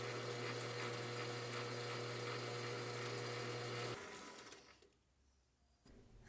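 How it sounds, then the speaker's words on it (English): A chamfering tool runs against a metal part for a Pennsylvania A3 switcher smokebox build, giving a steady, loud mechanical whir for about four seconds before it stops and fades to quiet room noise. "Then of course we get out the chamfering tool"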